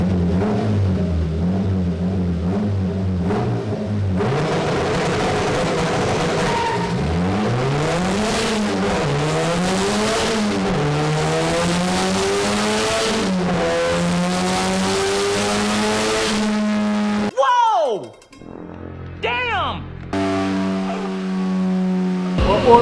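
A turbocharged Honda Civic engine roars on a dyno during a power run, pitch climbing steadily through a long, loud pull before cutting off into whooshing, chirping turbo release and a lower idle.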